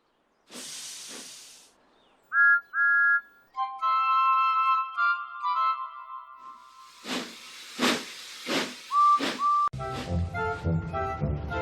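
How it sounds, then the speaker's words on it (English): Several steam whistles sound in turn, from hissing blasts to clear tonal toots of varying pitch, ending with a train chuffing and rumbling. "That sounds like a very good engine whistle."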